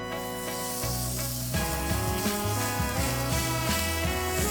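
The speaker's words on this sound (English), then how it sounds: "we're going to sear skin side down first in a hot cast iron pan" Duck skin searing skin side down in a hot cast iron pan gives a steady hiss of sizzle. Louder background music plays over it.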